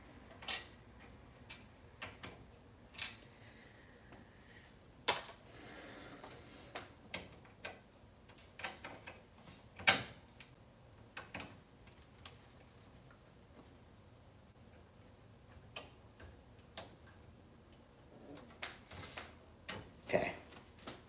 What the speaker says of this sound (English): I have to use my other screwdriver and give it a little oomph